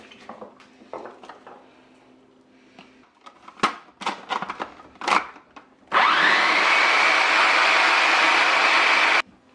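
A blender or food processor whirs loudly and steadily for about three and a half seconds while blending Caribbean green seasoning, after several knocks and clatters of lid and container.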